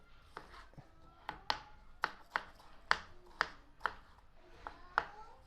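A knife chopping boiled egg into small cubes on a board, a dozen crisp, close taps in an uneven rhythm, fairly quiet with no talk.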